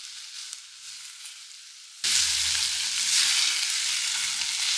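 Spices and vegetables for a Jamaican ITAL veggie patty filling sauté in a pan, quiet at first, then a sudden loud, sustained sizzling hiss with light stirring, no voices.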